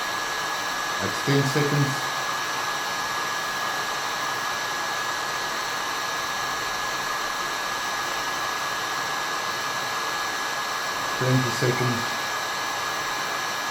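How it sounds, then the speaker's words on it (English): Hair dryer blowing hot air on the piston of an HPI F4.6 nitro engine, a loud steady broadband whoosh throughout, with brief voice bursts near the start and end. "And yeah, that's heating up."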